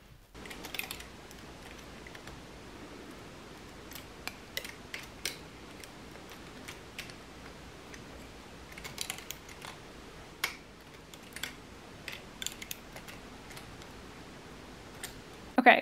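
Stitches are moved needle by needle on an LK-150 knitting machine, scattered sharp metallic clicks and ticks in an irregular rhythm over a quiet background.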